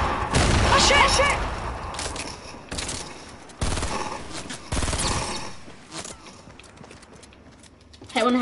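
Shotgun blasts from a double barrel in a video game, heavy booming shots early on followed by a few more sharp bursts, mixed with game sounds and players talking over them.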